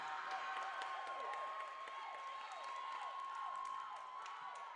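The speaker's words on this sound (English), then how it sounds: "As the crowd comes alive here for the Marauders at Newton Gillette Court." Crowd cheering and clapping for the Marauders at a women's college volleyball match, Newton Gillette Court, Antelope Valley, steady and fairly loud throughout with a sustained whistle-like tone and a commentator's voice running underneath.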